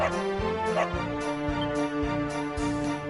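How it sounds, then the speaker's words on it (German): Dog barking in the video game Dragon Quest XI: a short series of repeated yips and barks over a sustained musical background. "Ach, jetzt bellt er von alleine, der Hund."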